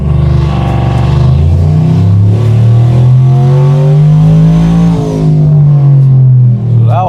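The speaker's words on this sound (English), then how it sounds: "All right, guys, first pull on the dyno." A single-turbo car engine on E50 fuel with a stock fuel system and 7 PSI boost screams loudly through a dyno pull, its pitch climbing steadily for about five seconds before dropping off sharply as the throttle closes.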